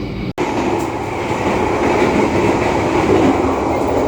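The Argo Wilis passenger train rolls steadily along the rails between Kertosono and Bandung in Indonesia, a continuous close rumble with faint rhythmic clatter from the wheels.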